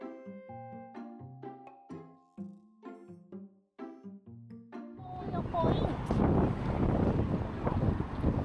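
Strong gusting wind buffets the microphone on a walk through Takamatsu, Japan, rising abruptly into a loud continuous roar after a stretch of quieter music-like tones.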